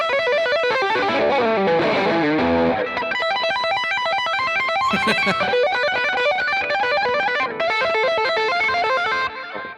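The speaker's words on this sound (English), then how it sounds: "Like that sounds like a high gain amp." Electric guitar played through an Eddie Boost drive pedal set for high-gain distortion, loud and sustained with a gritty, saturated tone across a flowing run of notes and chords.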